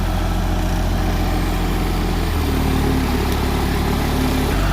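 The engine on a forwarder runs steadily at close range as its steering cylinders are worked, a loud, constant low drone with a slight shift in pitch partway through.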